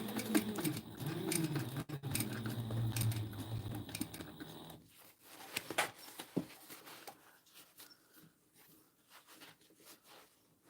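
A sewing machine stitches a drone EDC backpack repair, whirring steadily and close for about five seconds before stopping, followed by quieter scattered clicks and handling of fabric.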